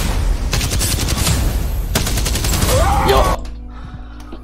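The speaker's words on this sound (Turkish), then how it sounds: "Spitfire'ın fire rate'ini duyuyor musunuz?" Rapid bursts of automatic fire from the Spitfire light machine gun in Apex Legends, loud and close with a fast steady rhythm, a pause mid-clip, then fading to quieter game ambience; a brief spoken word near the end.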